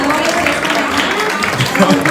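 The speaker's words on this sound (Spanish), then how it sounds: "muy fuerte aplauso para todas y todos" Audience applause at a Miss Colombia pageant event in Cartagena: dense clapping blended with crowd noise and overlapping voices, sustained and fairly loud throughout.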